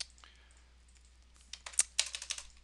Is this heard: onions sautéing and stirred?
no